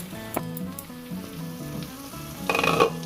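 Paneer frying in butter in a pan for paneer butter masala, a steady close sizzle with a few clicking utensil hits and a brighter hissing burst near the end, no voices.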